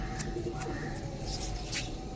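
Closed-tail pigeons with black tongues, kept for sale, coo softly in the background over a steady low hum, with a few faint soft calls and no talking.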